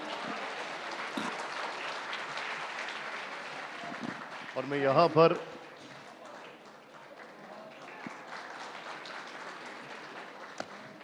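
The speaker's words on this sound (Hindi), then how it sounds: "बहुत जोरदार तालियां" Audience applause at the WITT Summit 2026 session with a yoga guru, a steady wash of clapping that runs throughout, rising briefly midway and continuing under someone speaking into the microphone.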